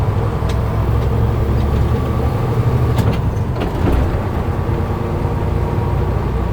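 A truck engine drones loud and steady from inside the cab during an upshift with double clutching, a deep rumble with slight changes in pitch and a few faint clicks and pops, and no voices.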